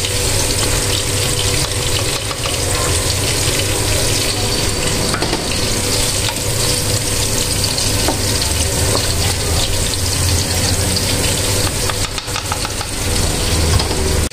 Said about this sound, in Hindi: तो प्याज फ्राई हो रहा है, मैं इसमें सारे मसाले डाल दी हूँ।